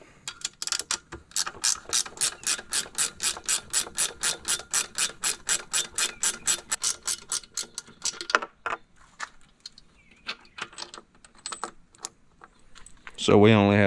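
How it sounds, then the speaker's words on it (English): Ratchet wrench loosening and removing a bolt from a Suzuki outboard motor's lower unit, a fast run of evenly spaced clicks that then slows into scattered ticks, ending with a louder burst of handling noise. "I'm gonna remove this bolt completely"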